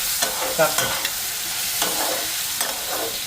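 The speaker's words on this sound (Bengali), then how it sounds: "এদিকে ভাতটাও একটু লাইরা দিই" Rice being stirred in a pot while fish fries nearby, heard as a continuous close sizzle with repeated soft scraping and stirring strokes every second or so.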